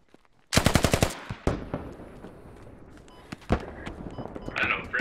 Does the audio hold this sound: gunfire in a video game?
yes